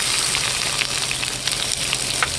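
Onions hitting a hot skillet, ahead of green peppers in a steak-and-egg breakfast, sizzle loudly and steadily, with a dense crackling hiss and a few brief sharper pops throughout.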